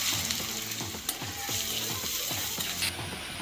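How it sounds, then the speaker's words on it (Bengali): Chopped onions frying in hot oil in a wok, a steady close sizzle with repeated scraping and stirring strokes from a spatula, no talking. "তেলটা ভালোভাবে গরম হয়ে আসলে আমরা এতে দিয়ে দেবো বেশ কিছুটা পরিমাণ পেঁয়াজ কুচি"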